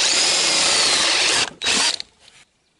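A power drill bores through a formed iron plate with a loud, high whine for about a second and a half, briefly stops, then whirs again before cutting out into quiet.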